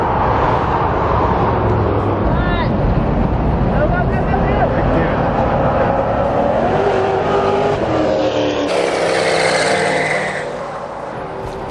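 A Duramax 2500 diesel pickup roars past on a NASCAR track, a loud sustained engine drone with shifting pitch as it passes, while people talk over it throughout.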